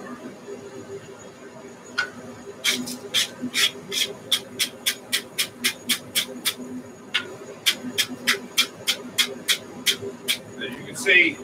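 A wire brush scrubs freshly forge-welded 5160 steel on a Viking axe in quick, evenly spaced scraping strokes. The strokes are close and clear, pause briefly around the middle, then resume at the same steady rhythm over a low background hum.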